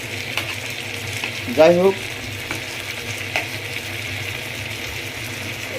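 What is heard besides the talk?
meat frying in a pan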